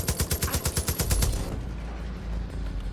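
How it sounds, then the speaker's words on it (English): Sustained automatic bursts from a light machine gun in the shooter game Far Cry 5 at the Operation Icepick outpost map, a rapid loud rattle of shots for over a second, then fading into low rumbling ambience. "I've done a lot of damage with this LMG though."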